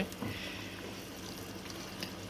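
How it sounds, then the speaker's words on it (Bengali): Duck meat being stirred in a cooking pan, with a soft, steady sizzle and light scraping of the pan, faint and close, lasting only a couple of seconds. "আবারও একটু নাড়াচাড়া দিয়ে নিচ্ছি, আমি মাঝে মাঝে একটু নাড়াচাড়া দিচ্ছি।"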